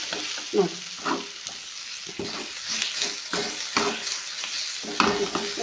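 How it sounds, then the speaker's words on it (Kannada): Radish leaves and green chillies stir-fry in hot oil with a steady crackling sizzle, broken by repeated scraping and stirring strokes of a spatula in the pan, close up and with no voices. "ಪೂರ್ತಿ ಬರೀ ಹಿಂಗೆ ಎಣ್ಣೆ ಒಳಗೇನೆ ಹಿಂಗೆ ಫ್ರೈ ಆಗುತ್ತೆ ನೋಡಿರಿ"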